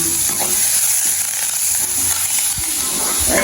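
Ingredients sauté in a hot pan while lunch is cooked at home in Jaffna, giving a loud, steady sizzle broken by a few stirring scrapes and knocks.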